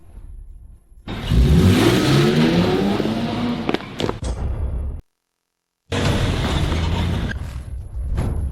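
A car starts off and accelerates hard, its engine rising in pitch through the revs with a loud, close roar, followed by a brief gap and then continued driving noise.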